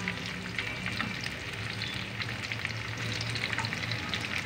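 Dry fruits (raisins, coconut and almonds) fry in a pan, giving a steady, close, crackling sizzle that runs unbroken throughout with no voices.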